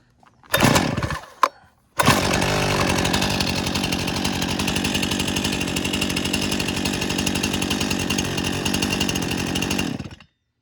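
A Stihl MS261CM chainsaw with a 20-inch bar sputters through two short pull-start bursts, then fires up and runs at a steady, loud, close roar for about eight seconds before cutting off abruptly, with no talking.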